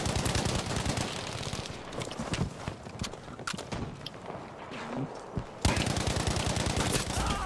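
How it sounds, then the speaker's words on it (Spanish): Rapid bursts of video game gunfire from a battle game, dense repeated shots filling the whole span with a sharp renewed volley near the end, loud and continuous with no talk over it. "Mira, 30 balazos."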